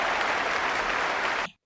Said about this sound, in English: "Bravo!" cheered the crowd, with their hats in the air.